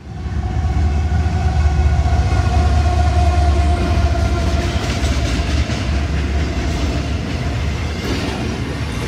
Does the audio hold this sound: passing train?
yes